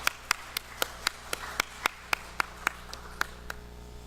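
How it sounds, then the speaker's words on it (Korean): A church congregation claps during a Korean worship service, giving steady, evenly spaced sharp claps, about fourteen in four seconds, set against a low hum of the room. "우리 한번 박수 한번 하나님께 올리십시다."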